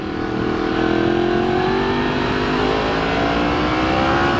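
A Yamaha FZ-10 motorcycle accelerates hard and close, its engine note climbing smoothly and loudly through the revs without any break.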